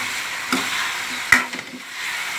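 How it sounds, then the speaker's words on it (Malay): Sliced onions go into a pan and are stirred through a cooking buffalo-heart dish, giving a soft steady sizzle with a couple of brief scraping stirs and no talking. "Sekarang saya nak masukkan irisan bawang besar dan kita gaul"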